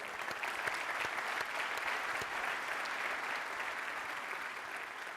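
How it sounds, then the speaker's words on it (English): A large audience in a SOLIDWORKS World 2019 general session hall breaks into even, continuous applause, heard at a moderate distance without speech. "Yep, a big applause."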